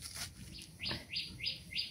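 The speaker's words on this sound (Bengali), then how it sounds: "পাখির ডাক" Small birds chirp outdoors in the morning around a village home, four or five short rising tweets in a steady rhythm, fairly close but soft.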